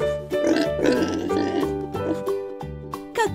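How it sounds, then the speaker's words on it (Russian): A farm pig oinks and grunts in a cartoonish, processed way, set over bright children's music with repeated snorting bursts across the few seconds. "Свинка!"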